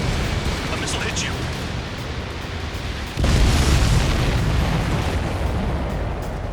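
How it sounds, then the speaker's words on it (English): A missile strikes the player's jet in Ace Combat 7, a heavy boom bursting out of a steady roar of engine and wind noise about halfway through, followed by sustained loud rumble. "A missile hit you."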